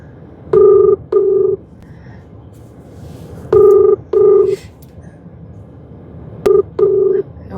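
A phone ringback tone sounds while a call goes unanswered, repeating in three clear double-beep bursts spaced about three seconds apart over a quiet room background.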